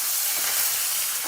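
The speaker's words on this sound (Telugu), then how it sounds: "ఇలా తిప్పుకుంటూ వేయించుకోవాలండి" Curry leaves and a pinch of asafoetida fry in hot oil as a tempering for sesame tomato chutney, giving a steady close sizzle with faint stirring scrapes throughout.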